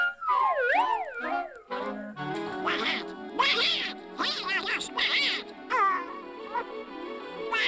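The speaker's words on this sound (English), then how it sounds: "Doggone blasted duck." A cartoon duck quacks and squawks in rapid, wobbly bursts, loud and close, with frantic sliding cries mixed into a lively 1949 animated short.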